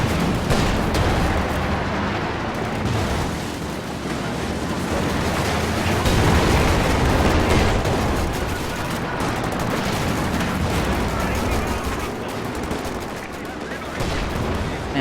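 Dense, continuous battle noise from a strategy video game as an M10 tank destroyer fires on a Panzer IV, with overlapping gunshots, machine-gun fire and heavy cannon blasts, loud and unbroken, while a commentator talks over it.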